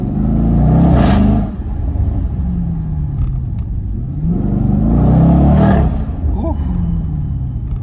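Jaguar F-PACE SVR engine revving at low speed below 3000 rpm, loud deep surging swells that rise and fall twice with a rumbling exhaust note, and a brief voice reacting.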